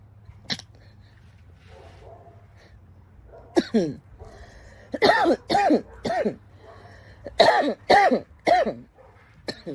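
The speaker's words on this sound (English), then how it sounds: "Cough it out." A person coughs and clears their throat in a quiet room, with one early hack followed by a string of harsh, close coughs in irregular bursts, some doubled, over a low background hum.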